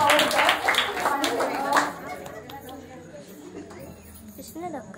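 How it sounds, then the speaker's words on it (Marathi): Audience clapping at a village sari competition organised by a youth club, a burst of close hand claps fading after a couple of seconds into quieter murmur and scattered voices. "कशाला टाळ्या वाजवलं?"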